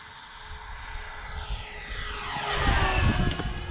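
An electric twin-motor Flightline B-25 RC model plane flies past, its propellers whining as the tone swoops downward, with the motor buzz swelling louder and closer toward the end.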